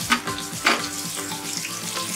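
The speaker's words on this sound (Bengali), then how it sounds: "এবার পেঁয়াজ কুচি দিয়ে হালকা করে ভেজে নেব।" Chopped onion fries in hot oil for a prawn and taro-stem dish, giving a strong continuous sizzle with a couple of sharp stirring clinks near the start.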